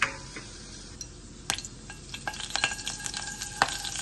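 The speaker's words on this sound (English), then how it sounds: "So we're gonna add the vermicelli noodle to the hot oil." Vermicelli noodles hit hot oil in a pan, a crackling sizzle that builds with sharp pops and scattered utensil clicks, close and fairly loud, no speech.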